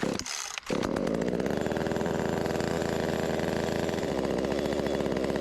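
A cheap $45 chainsaw engine roars steadily at close range after a brief gap, running loud and continuous with a rough, buzzing idle.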